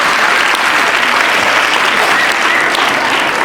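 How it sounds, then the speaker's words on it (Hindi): Loud, steady applause from an audience at a Hindi comedy poetry stage show (hasya kavi sammelan), dense and unbroken for the whole stretch with no voices over it. "एक बार उनके लिए तालियां बजा दीजिए"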